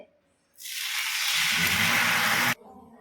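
Neer dosa batter hits a hot tawa with a sudden loud, close sizzle that holds steady for about two seconds and then cuts off sharply, leaving quiet room tone.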